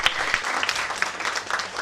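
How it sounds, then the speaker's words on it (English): Students in a classroom session on banking careers break into a short burst of applause, brisk overlapping claps from a small group, close and fairly loud, lasting under two seconds. "Give yourself a round of applause."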